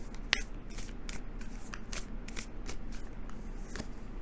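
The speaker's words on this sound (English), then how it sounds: "So let's draw you a final card for your week" Tarot cards being shuffled and drawn during a card reading, heard as soft riffling swishes and light papery flicks with one sharp snap near the start, close and fairly quiet.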